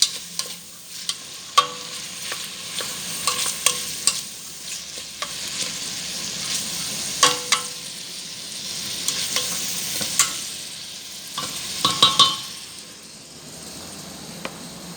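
Ingredients for a bean dish sizzling and frying in a pan, a continuous close hiss broken by scattered clicks and clatters of stirring utensils, without talk.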